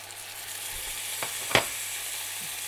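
Green chilli, curry leaves, coriander, ginger garlic paste and tomato sautéing in a pan for chilli chicken, a steady soft sizzle throughout with a few brief stirring clinks and one sharper splash near the middle.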